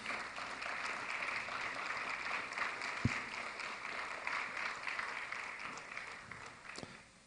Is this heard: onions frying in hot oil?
no